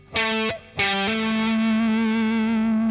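Three distorted electric guitar notes from a guitar solo, the first two picked sharply, the last a hammer-on sustained and ringing out with a buzzy, saturated tone.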